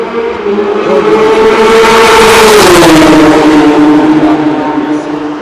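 Porsche and Ferrari race cars at the Le Mans 24 Hours, near and loud, engines roaring in a sustained drone whose pitch sweeps steadily down as they pass, heard with commentary.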